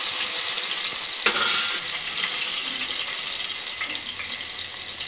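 Coriander stems drop into hot oil for a tamarind-leaf curry, giving a bright, steady close hiss and crackle with a sharp burst near the start.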